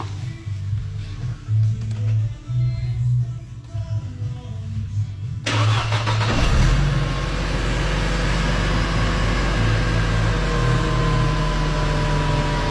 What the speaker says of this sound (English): we can just get on the car now and give it a big start